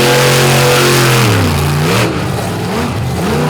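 A monster truck engine revs hard through a freestyle run at a night show in Benson, North Carolina, its loud, close roar climbing and dipping in sweeping pitch changes with no voices over it.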